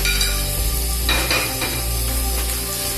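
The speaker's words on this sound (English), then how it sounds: "The sizzling sound should come while you are frying it." Chicken and bell peppers sizzle steadily in a hot pan during stir frying, a loud continuous frying hiss with a few clinks of utensils stirring, close up and with no voices.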